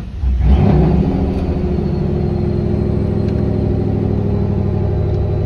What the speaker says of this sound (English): then you can start the car up